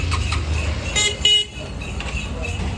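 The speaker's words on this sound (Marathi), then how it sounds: "ट्रॅफिक जाम झालंय" Cars stuck in a market-area traffic jam honk in short toots over a rumbling engine and road noise, with voices nearby.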